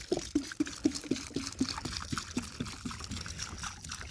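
Kelp mixture water being poured onto a newly planted Paulownia elongata tree: a rhythmic run of short splashing gulps trickling into soil, close and fairly quiet, with no talking.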